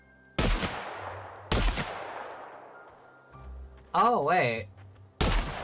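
Shotgun blasts in The Outer Worlds video game: four sharp, loud shots spaced a second or more apart, each with a decaying tail, and a short spoken remark between the third and fourth.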